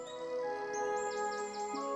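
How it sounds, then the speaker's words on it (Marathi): Birds in the aviary at Mumbai zoo chirp and whistle, with repeated bright tweets and sustained tonal calls layered over quiet ambience and no talk. "पक्ष्यांच्या किलबिलाटाने लोकांना मंत्रमुग्ध करणारं"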